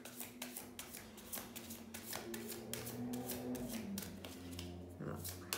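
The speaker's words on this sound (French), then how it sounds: "on va tirer une carte" Close, crisp rustles and flicks of playing cards being handled and drawn from a deck, a quick series of sharp papery snaps over a soft low hum.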